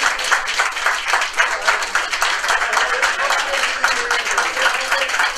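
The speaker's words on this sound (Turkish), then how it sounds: "Sağlık Bakanı Doktor Ali Pirli ve sağlık görevlileri son COVID-19 hastasını alkışlarla uğurladı." Sustained clapping from a group of people as health workers see off the last COVID-19 patient, an even patter of many hands continuing throughout.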